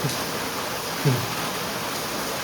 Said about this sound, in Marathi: हां मग पाऊस बघ किती पडतोय